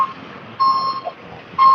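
Electronic tones from a truck backing up, steady high beeps that sound, drop out, then return, heard nearby over faint background rumble, with no one speaking.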